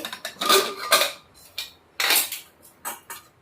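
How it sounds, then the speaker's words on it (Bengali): A pressure cooker being opened in a home kitchen while making ghugni, with several sharp metallic clanks and scrapes of the lid and pot, spaced irregularly and fairly close, with quiet gaps between them. "এবার প্রেশার কুকারটা খুলে নেব"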